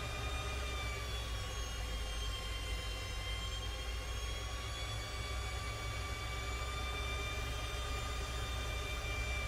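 An AV-8B Harrier II jet taxiing in Microsoft Flight Simulator, a steady whining turbine hum with a constant low rumble, even and unbroken throughout, fairly quiet.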